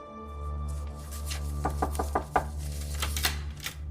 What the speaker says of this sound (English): Smith hears a knock at his office door